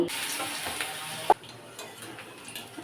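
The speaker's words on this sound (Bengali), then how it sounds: "লাল লাল করে ভেজে নেবো" Spinach croquettes fry in hot oil with a steady close sizzle, a sharp utensil clink partway through, then a softer continuing crackle.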